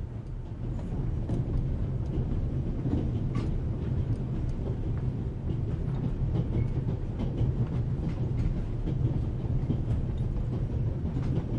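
A train travels in the video game The Raven Remastered, a steady low rumble with soft rhythmic clatter of wheels on rails, continuous and even, with no talk.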